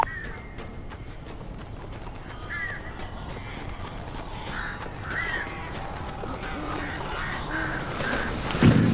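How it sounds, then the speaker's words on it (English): Birds caw repeatedly in the horror game Alan Wake, harsh crow-like calls scattered over several seconds against a low, rumbling ambient backdrop. "These birds are weird."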